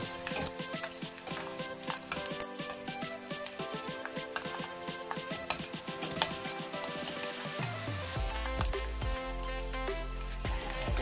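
Pork crackling fries in hot oil, a dense, busy sizzle full of sharp pops and spits, with a few clinks of a metal utensil against the pan and a low rumble building near the end.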